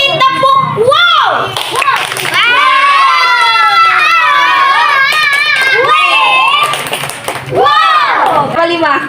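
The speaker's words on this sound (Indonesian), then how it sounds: "Kita kasih tepuk." Children clapping in a classroom lesson simulation, sharp bursts of claps mixed into loud children's shouting and cheering, with chanting voices dominating throughout.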